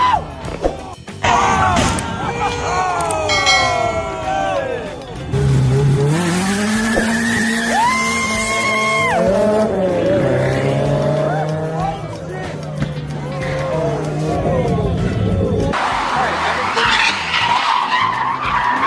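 A racing car skids off the track in a crash, with loud, sweeping tire squeals and skidding, engine noise and a whooping crowd, under excited commentary.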